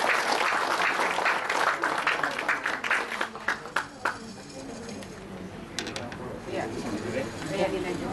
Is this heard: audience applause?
yes